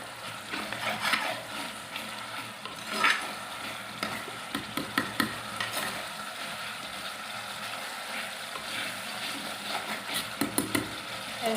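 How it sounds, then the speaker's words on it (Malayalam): Sardine curry bubbling in a pan on the stove, a steady low simmer with scattered soft pops and stirring scrapes, one sharper burst near the start, heard up close with no talking. "ഈ എണ്ണ തെളിഞ്ഞു കാണുമ്പോഴത്തേക്ക് ഇച്ചിരി കൂടെ ഒന്ന് തിളയ്ക്കുന്നുണ്ട്"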